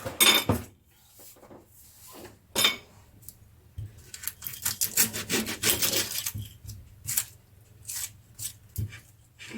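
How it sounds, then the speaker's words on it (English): A knife cuts up an onion on a cutting board, with scattered thuds followed by a run of quick rhythmic chopping and scraping close by, with no talking. "So let's cut up the onion."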